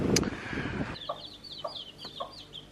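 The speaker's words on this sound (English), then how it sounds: "So in here we have the broody hen that is now mama hen to 9 little week-old chicks." A broody hen with nine week-old chicks clucks softly in a coop, a run of short, evenly spaced clucks after a brief rustling noise. The clucks are close and fairly quiet, with no voices.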